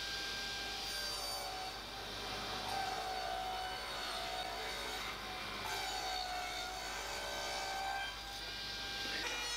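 A power tool cuts a groove for Perspex into wood, giving a continuous, fairly quiet high-pitched whine that rises and dips in pitch over several passes.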